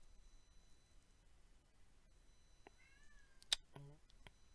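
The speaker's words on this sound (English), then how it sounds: "Oh, quiet, kitty." A house cat meows a few times close to the microphone, short rising-and-falling cries near the end over a quiet room hum.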